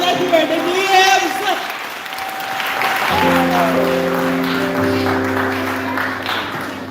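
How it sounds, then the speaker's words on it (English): A crowd at a primary school graduation ceremony claps heavily, the applause loud and continuous throughout, while a voice speaks over it and sustained musical tones or feedback enter partway through. "We're going to put our hands together and then on a clap even bigger when we hear the names."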